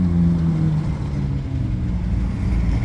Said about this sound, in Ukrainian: Вон червоненька поїхала машинка